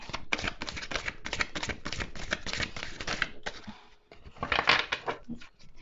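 Oracle cards being shuffled and drawn, rapid dry riffling flutters in quick bursts up close, a brief pause, then another shuffle burst and a card slid out.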